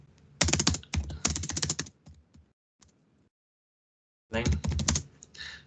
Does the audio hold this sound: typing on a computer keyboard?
yes